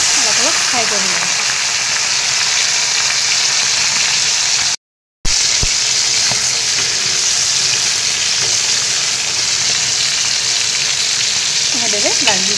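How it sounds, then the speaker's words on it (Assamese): Small fish frying in hot oil in a wok, a steady, loud sizzle and crackle that runs continuously with one brief silent gap. "এয়া মাছখিনি মই এতিয়া অলপ অলপ ফ্ৰাই কৰি ল'ম।"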